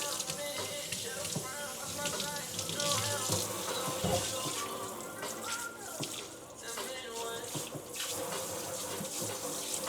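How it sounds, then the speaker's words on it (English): Tap water runs into a kitchen sink while small dishes are washed by hand, with clinks of dishware, fairly close and continuous at a modest level. "I'm gonna go ahead and wash these little dishes that's in here"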